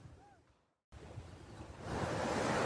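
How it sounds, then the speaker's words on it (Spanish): Ocean waves break against rocks, building from a soft wash after a brief silence into a broad, steady surge of surf that grows louder toward the end, with no voices over it. "Las olas rompían contra las rocas, creando un ritmo hipnótico que acompañaba su conversación."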